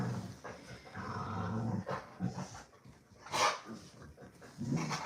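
Dogs growl and pant nearby while playing, with low rumbling growls, scuffles and an occasional sharper yelp.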